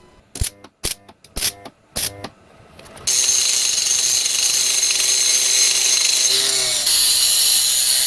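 A flap disc grinds down thin welds on the exhaust of a 1988 Kawasaki KLR650. Several short buzzy bursts come first, then a loud, sustained close-up grinding whine that holds steady to the end.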